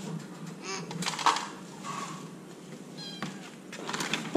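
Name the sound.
cat meowing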